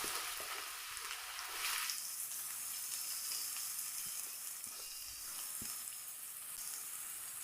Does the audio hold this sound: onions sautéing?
yes